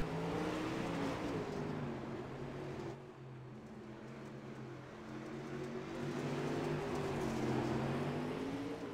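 Super late model race cars roar around Lanier National Speedway, several engines layered in a steady, loud drone with rising and falling pitch as they run through the turns, briefly dipping midway before swelling again.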